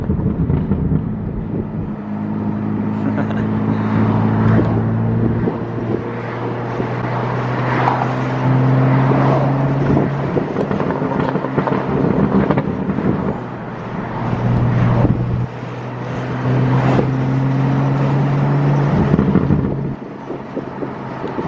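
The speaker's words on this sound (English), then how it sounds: "I think he changed the burble settings though, because the last time I drove it, it was not this aggressive" A tuned BMW F80 M3 exhaust drones and burbles while driving, with engine tones rising and falling through gear changes and steady road and wind noise throughout.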